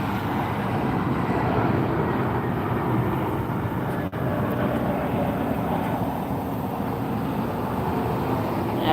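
A yellow Spirit Airlines jet at Las Vegas airport produces a steady, broad engine roar that holds level throughout without any talk.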